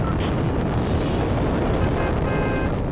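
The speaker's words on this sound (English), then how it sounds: "There goes the missile right there!" Missile launch in Fortnite Battle Royale, a continuous loud roaring rumble like a sustained explosion or blast, steady and heavy throughout with no pause.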